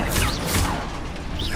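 A Confringo blasting spell in Hogwarts Legacy erupts as a loud, dense, crackling whoosh and crash lasting over a second, with whistling streaks running through the noisy burst.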